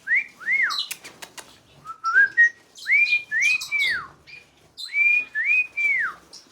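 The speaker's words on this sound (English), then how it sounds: "only your male cockatiels will whistle" A male cockatiel whistles a series of clear, rising and falling tuneful phrases with short gaps between them, close by, with a few faint chirps mixed in.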